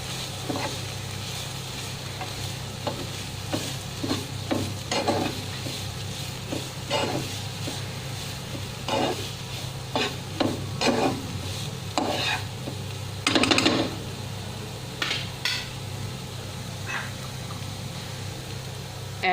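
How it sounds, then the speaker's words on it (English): Grated beetroot frying in a pan with ginger and garlic as it is stirred, a steady sizzle under repeated scraping strokes of a spoon across the pan, close up with no talking. "Give it a mix."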